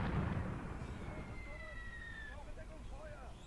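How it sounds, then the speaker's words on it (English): Mortar fire in Graviteam Tactics, Kharkov 1941: a heavy booming explosion at the start rolls into a long rumbling tail, with faint whistling tones overhead and distant combat under steady low noise. "We're just taking mortar fire from over there somewhere."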